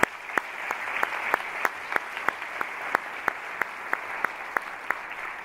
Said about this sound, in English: Please give them a loud round of applause.